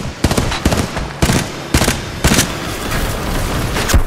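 Gunfire and explosions crack out in the PS4 shooter Titanfall 2, with a string of loud, sharp bursts spaced irregularly over a constant backdrop of game noise.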